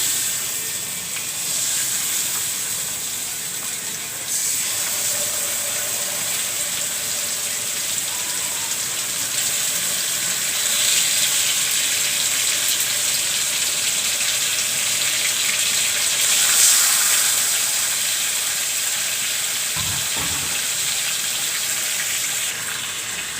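Farm chicken pieces fry in a pan for chicken roast, giving a continuous bright sizzle and crackle that holds steady throughout with small swells, close and without any talking.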